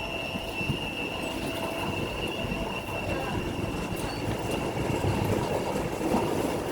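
An old Newcastle Metro train rolls into a station, its steady rumble and wheel squeal heard at moderate distance, with a high tonal whine running throughout.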